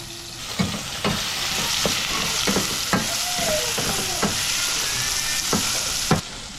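Flour-dusted fish pieces frying in a pan, a continuous close sizzle broken by sharp scrapes and knocks as the pieces are tossed around, about ten distinct strokes.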